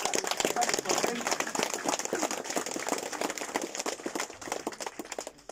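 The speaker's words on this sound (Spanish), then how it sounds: "Que se escuche el aplauso" Community applause rings out at the inauguration of a neighborhood chapel in Eloxochitlán de Flores Magón, a dense burst of many hands clapping that gradually thins and fades toward the end.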